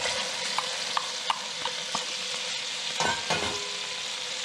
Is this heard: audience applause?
no